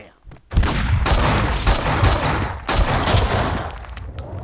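Sustained gunfire from dual Beretta pistols in the video game Max Payne 2, a loud, dense run of rapid overlapping shots with a few brief gaps, close and dominant throughout.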